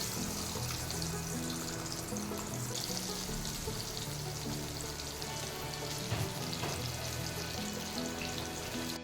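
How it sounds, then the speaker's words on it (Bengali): Boal fish pieces rubbed with salt and turmeric fry in hot oil, a dense, steady hiss of sizzling that stays loud and even throughout with no voices. "নুন হলুদ মাখিয়ে রাখা মাছগুলো দিয়ে দেব ভাজার জন্য"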